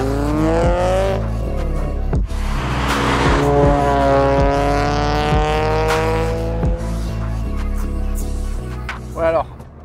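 A Toyota GT86 engine revs and drones loudly from inside the car while driving, its pitch climbing and dropping through gear changes, with occupants talking over it.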